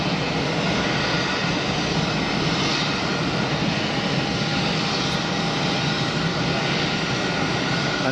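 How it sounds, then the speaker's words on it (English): A Swiss airliner's jet engines roar steadily at full power during an intersection departure at Geneva Airport, a continuous broadband rumble with no gaps or voices, loud and sustained throughout. "Swiss going for an intersection departure with the Wookiee"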